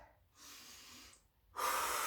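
Audible breaths during a Pilates exercise: a long steady breath, a brief pause, then a louder, sharper rushing exhale, close to the microphone.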